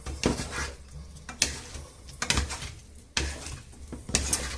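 A utensil stirs chopped red peppers and onion around a frying pan whose oil is not yet hot, with repeated close metallic clanks and scrapes in an irregular rhythm over a faint background hum.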